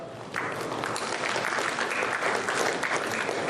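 A dinner audience at a community unity dinner applauds steadily, a dense wash of clapping that swells in after a brief quieter moment and holds loud and even throughout.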